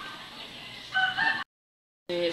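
Rooster crowing close by at a cockfight-style match, a bright harmonic call that swells into a louder crow segment, cuts to silence, then a burst of clucking resumes at the end.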